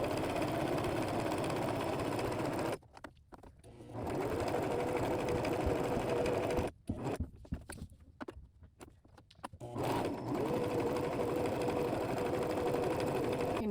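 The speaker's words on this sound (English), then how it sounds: "I'm going to take these over to the sewing machine." A sewing machine stitching fabric book sleeves in fast, steady bursts, pausing twice briefly with quieter handling sounds before resuming its whirring rhythm.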